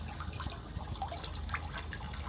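Water streams from a public drinking fountain in Rome, a soft, continuous trickle and splash, faint and close, with small dripping accents and no talk.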